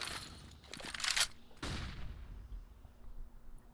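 AK fire sprayed through a wall in a competitive shooter match, a few sharp quick bursts of shots, moderately loud, separated by short pauses before fading.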